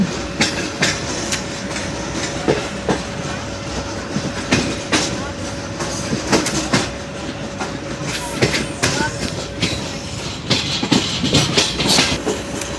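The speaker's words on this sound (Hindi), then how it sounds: "ट्रेन हमारी लोधरा जंक्शन अप्रोच बनाते हुए" Zakariya Express passenger train rolling toward Lodhran Junction in heat, loud steady rumble with repeated clickety-clack wheel beats over rail joints, a faint tonal whine running throughout, close and continuous.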